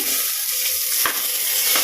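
Sliced onions frying in hot oil for a Kannada-style chicken curry, a steady broadband sizzle with brief stirring scrapes, close and continuous without talk.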